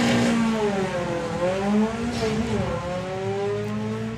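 A drag racing car at the 2023 STP National Finals revs high on the two-step, its engine note climbing and dipping in repeated whining sweeps before power is cut, loud and close.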